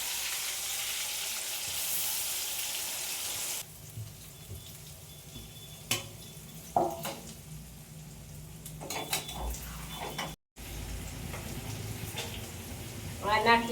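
Potatoes frying and sizzling in a pan while a dry fasting-day potato dish is cooked, a steady broadband hiss that drops after a few seconds, broken by scattered clinks and stirring knocks.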